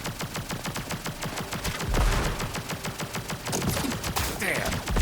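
Rapid bursts of video game gunfire from Contra: Operation Galuga rattle almost nonstop, a dense fast rhythm of shots that grows heavier midway, with a brief voice underneath.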